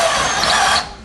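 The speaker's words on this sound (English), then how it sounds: "Now on your drill, you probably have a setting for 1 or 2." A power drill drives a screw into wood in one short, loud whirring burst that cuts off near the end.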